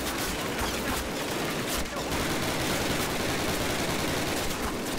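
Rapid, dense machine gun fire from Call of Duty rattles continuously and loudly, with a brief dip before resuming in sustained bursts.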